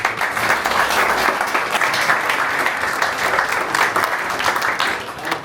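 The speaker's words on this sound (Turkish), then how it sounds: "Yani bir alkışlar istiyorum." An audience at a clarinet festival applauds, and the dense, steady clapping stays loud and continuous before tapering slightly at the end.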